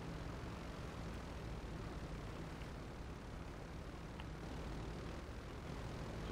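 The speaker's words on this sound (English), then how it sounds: "The jet taking off right here." A jet aircraft takes off in the distance as a steady, low broadband roar that holds level throughout and carries no voices.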